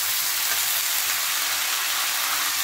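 Mixed vegetables and Malabar spinach frying in a pan, a steady broadband sizzle that holds evenly and alone for the whole stretch, with no voices over it.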